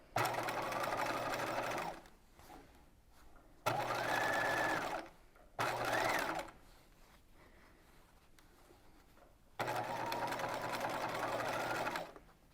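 A sewing machine stitching a bias strip onto a corset runs in three to four bursts of a few seconds each, close and steady, separated by quiet pauses while the fabric is adjusted.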